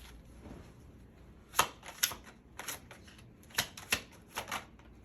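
Tarot cards handled during a reading: a run of crisp, separate flicks and slaps, roughly eight short bursts with quiet gaps between them, close and fairly soft, with no voice.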